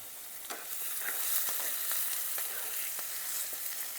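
Onions frying in a pan while turning dark brown, a steady dense sizzle with occasional crackles and stirring sounds, close up and with no talking.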